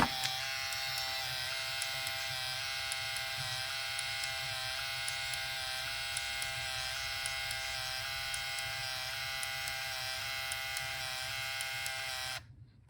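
A Nintendo Game Boy Printer printing a photo: a steady, continuous mechanical buzz and whir with faint repeating ticks, running evenly for about twelve seconds before stopping abruptly, heard alone and close.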